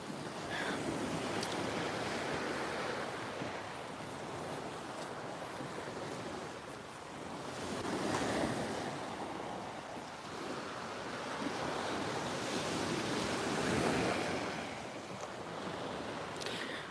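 Ocean waves wash onto a beach on Spain's Costa del Sol, a steady close surf hiss with broad swells cresting around two breaks, mixed with light wind buffeting and no voices.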